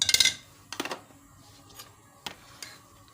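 Metal kadhai (wok) clanking on a stovetop as it is set down and handled to heat butter for homemade ghee from milk cream; a loud clatter at the start, then a few lighter knocks and taps with quiet gaps, no talking.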